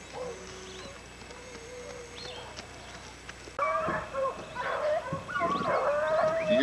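Several hunting dogs bay and yelp on a caracal's track in South Africa's Eastern Cape, faint at first and then louder, drawn-out cries overlapping outdoors.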